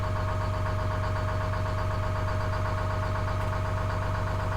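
A fishing boat's engine idles in a steady, even, fast chugging pulse with a constant mechanical hum, loud and close with no other sounds.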